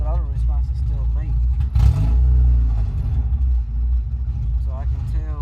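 A Honda EK coupe with an H2B engine swap idles steadily at low rpm, a continuous low rumble with a brief blip near the middle, while someone talks over it.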